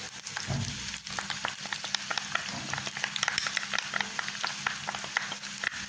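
Onions and garlic fry in a pot for a Jamaican curry, producing a bright, close sizzle with frequent crackling pops and spatter, heard alone without voices.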